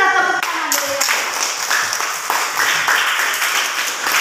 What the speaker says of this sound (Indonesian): Kita tepuk tangan dulu.